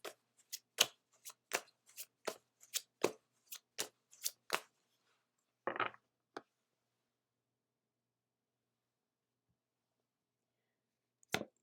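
A deck of oracle cards being shuffled by hand: about a dozen sharp riffling snaps in a quick steady rhythm, a softer rustle as a card is pulled, then quiet and one last faint flick, all close and alone.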